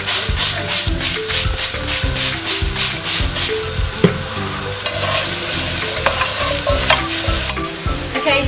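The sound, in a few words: stir frying leeks, shallots, garlic and tarragon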